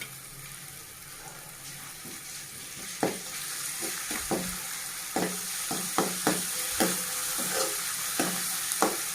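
Ginger garlic paste fries in a pan, a steady close sizzle broken by a series of sharp spoon scrapes and taps against the pan, roughly a dozen spread unevenly across the stretch.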